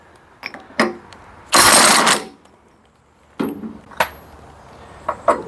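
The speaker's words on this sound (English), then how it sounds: "Your little impact gun." A small impact gun on a vintage Firestone lawnmower fires one loud, harsh burst of about half a second, framed by close metallic clicks and clanks of tools and parts.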